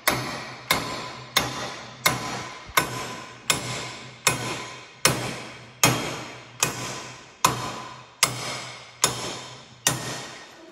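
A big hammer strikes metal in steady, evenly spaced blows, about fourteen sharp impacts each ringing briefly, close and loud with no talk over them, while fitting bolt-on parts.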